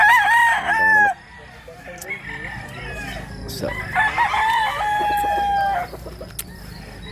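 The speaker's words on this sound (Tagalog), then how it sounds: "Ang manok." A rooster crows loudly nearby, followed by clucking and a second crow, with a brief voice underneath, in Mantalungon, Cebu.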